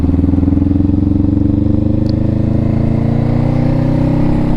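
Honda Rebel 500 motorcycle cruising through a neighborhood, its steady engine drone loud and continuous throughout with a low rumbling tone and slight variation as it rides on.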